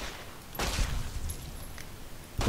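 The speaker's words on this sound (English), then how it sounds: "The weapon firing effects" Gunfire from Fallout New Vegas: a loud broadband burst of shots near the start, then rumbling echo, faint scattered reports, and another sharp shot at the end.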